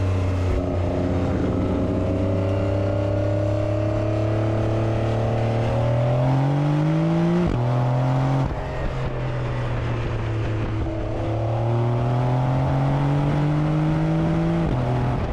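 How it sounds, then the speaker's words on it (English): A new Porsche 911 Carrera engine drones loudly and rises in pitch under acceleration, then blips sharply as it downshifts to second, and climbs steadily again from close inside the car. "Let's downshift now to second. And roll it a little bit more."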